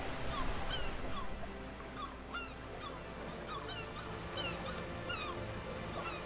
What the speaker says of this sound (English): does the seagulls sound like they're saying "oh-wee, oh-wee," but their screeches and squeaks?